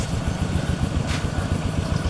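A tractor engine runs at a steady idle, close and fairly loud, with a low, rhythmic chugging throb and no talking over it.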